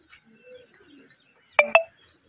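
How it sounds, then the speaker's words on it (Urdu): Fancy colored pigeons from a flock of about 200 to 250 in Dera Ismail Khan, Pakistan: faint scattered coos and chirps, then two brief, louder calls close together, with quiet around them. "وہ سامنے دیکھیں ٹکڑی ایک اڑ رہی ہے، تقریباً 200-250 کبوتر ہیں"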